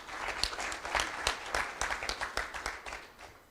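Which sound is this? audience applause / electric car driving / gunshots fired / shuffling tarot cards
audience applause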